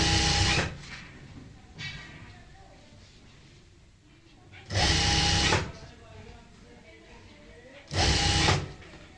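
A sewing machine stitches pleats on a palazzo pant in three loud, steady bursts of a second or less, separated by quieter handling of the fabric and someone talking.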